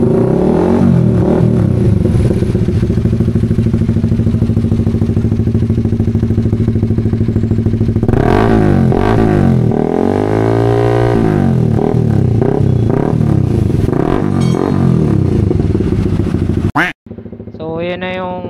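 A Yamaha Winner X motorcycle fitted with a replica Pro Liner exhaust pipe idles loudly and close, then revs up and down in several swelling blips before cutting off abruptly, with a brief restart at the end.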